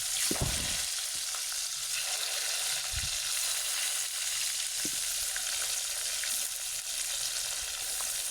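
Tempe frying in a pan without any flour coating, a steady close hiss of sizzling oil with occasional clunks of stirring or turning pieces.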